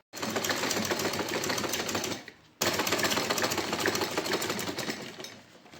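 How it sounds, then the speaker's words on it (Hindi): A sewing machine stitches a blouse neck patch with a fast, steady run, stops briefly, then resumes for a second long pass. "अब ये तीनों मैं एक साथ सिलूँगी"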